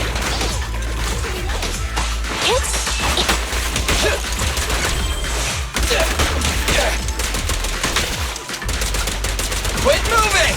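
Gunfire in the video game Zenless Zone Zero, rapid bursts of shots crackling in dense, continuous volleys with sharp impacts and whooshes, loud and close throughout.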